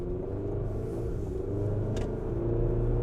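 A Chevy Colorado ZR2 pickup fitted with an aftermarket blow off valve pulls hard under boost, its steady engine rumble rising in pitch, then a brief airy whoosh from the valve cuts in near the end.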